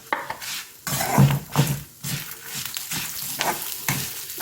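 Curry leaves frying in hot oil while a spoon scrapes and stirs the pan, bursts of crackling sizzle mixed with metallic clinks and scraping strokes, close and uneven, no talking.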